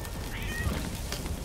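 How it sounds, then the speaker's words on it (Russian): A cat yowls faintly in the distance during a Sea of Thieves pirate skirmish, a drawn-out wavering cry half-buried under steady game noise. "Кот где-то орет там"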